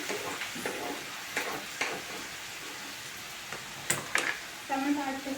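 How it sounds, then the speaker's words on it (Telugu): Chicken pieces frying in oil in a pan for a village-style chicken curry, a steady broadband sizzle with occasional stirring scrapes and clatters, plus a brief voice-like tonal sound near the end. "చికెన్ అనేది ఆయిల్లో బాగా ఫ్రై అయింది."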